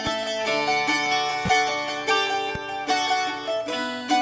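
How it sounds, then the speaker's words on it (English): Mandolin and 12-string guitar double the same melody in bright, crisp plucked notes, strummed rhythmically with sharp attacks and ringing overtones in a full, close mix. "Now these guys are doubling each other. The mandolin and 12 string."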